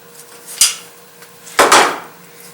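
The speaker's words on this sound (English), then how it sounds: "8mm socket. Loosen the bolt in the center." A socket wrench loosens the center bolt on the AC clutch of a 1992–1996 Ford F-Series truck, giving two sharp metallic clanks about a second apart, close and clear with no talking.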